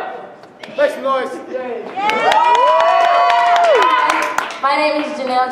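High school audience at a Louder Than a Bomb poetry slam cheering, whooping and clapping loudly, a swell of crowd noise mixed with shouting voices over several seconds.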